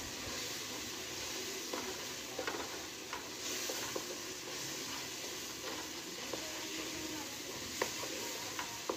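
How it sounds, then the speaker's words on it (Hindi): Masala spices with salt stir-fry in a pan, making a soft, steady sizzle with frequent light spatula scrapes and taps throughout. "दोस्तों मसाला भून रहे हैं।"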